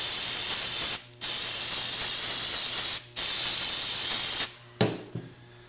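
Cleaner sprays onto parts of a UST generator in three long loud close hissing bursts, each cutting off sharply, followed by a short final spritz.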